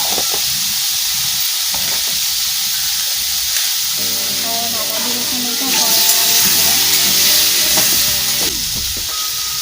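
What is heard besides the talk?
potatoes frying in oil with turmeric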